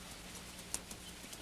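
Horse hooves clip-clopping faintly on a hard surface in the background, a few sparse, soft strikes over a quiet backdrop with no talk.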